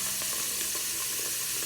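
Warm water poured from a tap over sticky rice in a bowl: a steady, dense hiss and splash of running water, close and continuous throughout.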